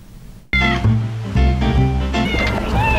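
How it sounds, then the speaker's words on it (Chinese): Cats in Houtong cat village, a seaside mining town in New Taipei, Taiwan, with a meow rising over a busy outdoor background, loud and close after a brief quiet start. "来到猴童，到处都是猫咪"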